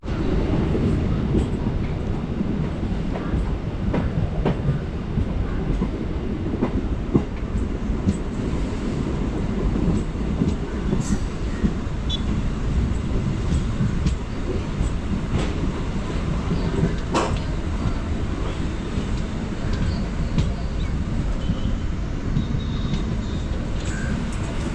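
Dindigul–Palani–Coimbatore special MEMU express train running on the line, a steady loud rumble of wheels and carriage noise from inside throughout, with faint rhythmic clicks over rail joints and no talking.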